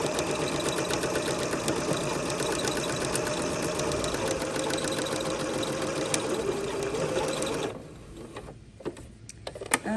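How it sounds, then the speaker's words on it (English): Sewing machine stitching a straight seam in fabric along the presser foot edge, a steady rapid mechanical whir running loud and even for nearly eight seconds before stopping, followed by small clicks and handling noises. "we're going to sew a straight line just like always"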